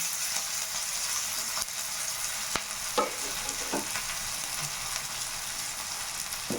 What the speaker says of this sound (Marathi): मी मिरची आणि लसूण जिरं ठेचून घेतलेलं आहे ते फ्राय करून घेते